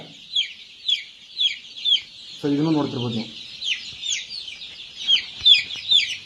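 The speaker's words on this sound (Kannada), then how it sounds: "ಹುಂಜ ಇದೆ ಒಂದು ವಾರದ ಮರಿನೇ ಆಗಿದೆ" One-week-old Giriraja chicks, including a young rooster, chirp steadily in rapid, high peeps throughout, close by, with a brief stretch of someone talking in the middle.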